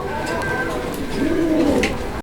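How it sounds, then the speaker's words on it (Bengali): Pigeons cooing close by at a pigeon farm sale in low, rolling murmurs, with background chatter from people nearby. "দেখেন কবুতর দেখেন"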